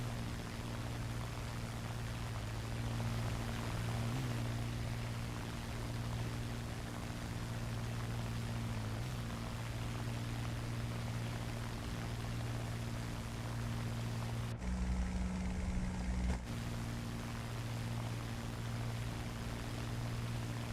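A Spitfire's propeller engine drones steadily during a climb in a flight game, a constant low hum with a broad rushing wash of air, briefly shifting in tone for a couple of seconds near the end.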